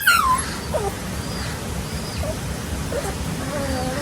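Three small stray puppies at a fish pond give a few thin, high whimpers and yips, faint against outdoor background noise.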